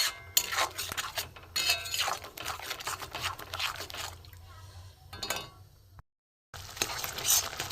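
Spice paste with grated ginger being stir-fried in a pan for a vegetarian cabbage dish, with repeated scraping and clinking strokes in bursts and a short silent gap near the end.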